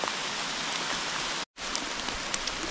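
Rain falling in a damp forest on a trekking route, a steady dense patter of drops with a few louder individual hits, continuous apart from a brief gap, no talking.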